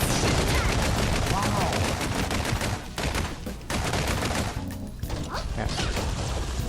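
Kiana's gun firing nonstop in Honkai Impact 3, a dense, loud stream of rapid gunshots and mechanical clatter that fills the whole stretch with only brief dips in intensity.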